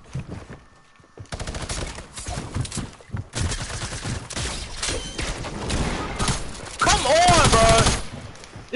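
Gunfire during a video game squad fight comes in loud, uneven bursts and rattling volleys after a quiet opening, mixed with game effects and players talking.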